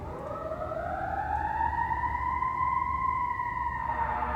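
An ambulance siren wails steadily in the background, a sustained rising and falling tone that stays moderately loud over low ambient rumble for the whole stretch, with no other voices.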